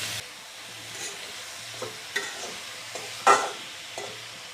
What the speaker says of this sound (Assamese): এতিয়া মই লাহে লাহে লৰাই দিম